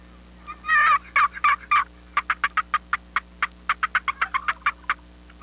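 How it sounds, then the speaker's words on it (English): Wild turkeys gobbling on a morning after rain, a few long rolling gobbles followed by a rapid run of short, evenly spaced clucks and calls, fairly close and loud over a steady low hum. "There must be turkeys around."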